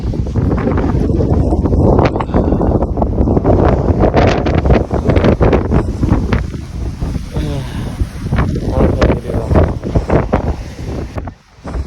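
Strong wind on Mount Ciremai roars and buffets the microphone in loud, continuous gusts with brief lulls, close and rough throughout.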